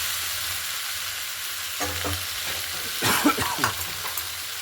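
Mixed vegetables with spices sizzle in a frying pan for a Bengali vegetable charchari, a constant hiss broken by a few scraping stirs of the spatula around the pan.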